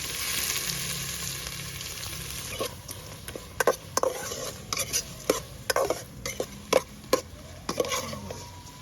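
Shrimp heads and ginger frying in oil, a steady close sizzle joined after a few seconds by a series of sharp, irregular spatula scrapes and clacks against the pan.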